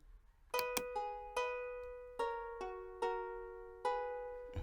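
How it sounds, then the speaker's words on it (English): Guitar sample played in FL Studio, seven plucked notes with bright harmonic tones ringing out and decaying, evenly spaced and clean with no other sound. "That's the sound of the guitar."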